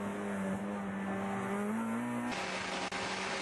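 Touring race cars brake and pass at turn 15 in a US championship race, with one loud engine droning close and the pitch shifting as the cars brake and go by.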